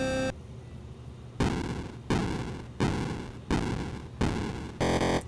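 Donkey Kong intro music plays from an Atari game cartridge, with bursts of loud, bright, buzzy electronic notes separated by short gaps, close and with no voices.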